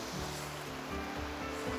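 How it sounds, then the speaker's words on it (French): A small waterfall pours into a lake along a hiking trail, a steady rushing wash of water heard fairly close with no voices. "Et petite cascade et tout."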